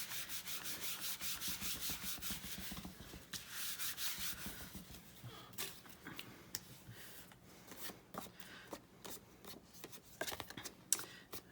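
Paper being rubbed and scraped during a paper-crafting session with 6x6 patterned papers, a steady dry rasping for the first few seconds that breaks into short scratchy strokes and taps, close and fairly quiet.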